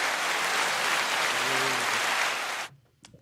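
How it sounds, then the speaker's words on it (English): A dense round of applause from a gathered group, steady and close, cutting off abruptly near the end with a few stray claps after. "Round of applause, brother."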